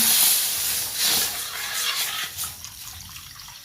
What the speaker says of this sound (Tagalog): Ilalagay natin yung ating sandamakmak na gata.